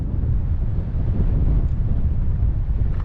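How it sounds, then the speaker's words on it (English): Strong gusts buffet the microphone outdoors in Colorado, a loud, continuous low rumble of wind noise with no letup and no voices. "Wind is pretty gnarly again today"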